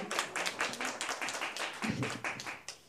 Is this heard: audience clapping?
yes